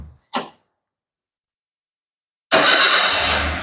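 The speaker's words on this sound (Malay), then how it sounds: "Kereta dapat dihidupkan." A Toyota Avanza with a 3SZ engine, one that has trouble starting when hot, gives a brief click, then after a silent pause fires up and runs with a loud, steady roar close by.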